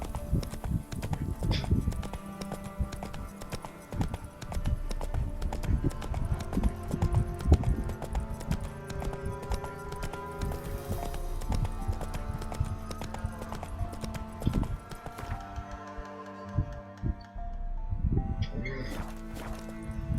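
A horse gallops in The Witcher 3 video game, a steady rapid clip-clop of hooves running throughout, close and fairly loud, with a brief pause and scattered clatter near the end.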